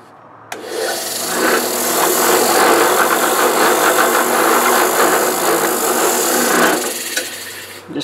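Sandpaper is held against a spinning fishing rod blank to taper it, giving a loud, continuous abrasive rushing hiss over the motor's hum. It starts abruptly, holds steady for several seconds, then eases off.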